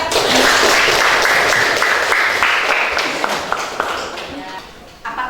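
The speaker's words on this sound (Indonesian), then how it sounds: "Tepuk tangan dulu untuk kalian." Classroom of students applauding classmates during a lesson on the circulatory system, a dense wash of clapping mixed with chatter and voices, loud at first and tapering off near the end.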